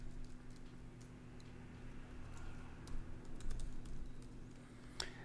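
Quiet, rapid clicks of a computer keyboard as a username is typed, irregular taps over a faint steady hum, with one sharper click near the end.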